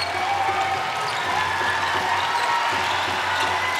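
Warm crowd applause at a Netball World Cup match between Zimbabwe and Sri Lanka as a player leaves the court: a steady, dense wash of clapping from a large arena audience that holds at an even level throughout.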